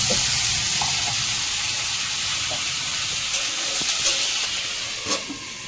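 Tomato and potato frying in a pan give a continuous, close, loud hissing sizzle, with a few soft stirring knocks near the end.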